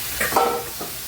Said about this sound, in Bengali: এই সবজিগুলাই আমি এখন এই মশলা কষার মধ্যে দিয়ে দিচ্ছি